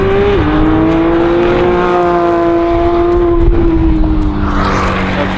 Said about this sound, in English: Such is the response and clarity of feel of this GT3, you find yourself driving very, very quickly with real confidence.